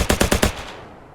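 A video game automatic rifle fires a loud, rapid burst of about five shots that empties the magazine, followed by a short fading echo.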